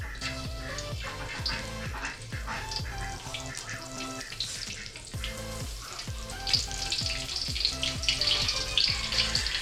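Onions tipped into a hot pan for a home-cooked Indonesian dish fry with a steady crackling sizzle, and busy clatter and scraping of a utensil run through it, growing a little brighter and louder toward the end.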